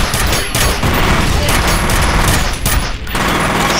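A dense, loud barrage of gunfire in the video game F.E.A.R., overlapping shots and blasts running almost continuously with only brief dips.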